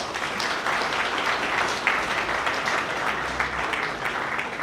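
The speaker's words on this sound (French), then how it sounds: "Merci beaucoup pour ces applaudissements." Sustained, dense applause from a gathering of mourners at a funeral wake honoring a deceased mother, a continuous wash of many clapping hands with faint voices mixed in.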